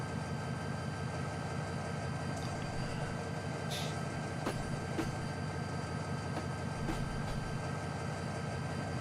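GP20 diesel locomotive in Train Simulator 2019, a steady low engine idle with a constant hum and a few faint clicks and clanks inside the cab, no talking.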